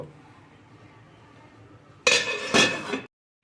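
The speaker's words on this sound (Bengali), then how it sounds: "এবার আমি এটাকে ঢাকা দিয়ে সেদ্ধ করব" A lid is set on a pot of raw mango and sesame chutney, giving two close metallic clanks about half a second apart after a quiet stretch, then silence.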